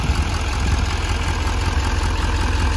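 A 2015 Chevy Silverado 2500HD with the 6.6L Duramax diesel runs at a steady idle, a close, constant low engine drone with an even rhythmic chatter.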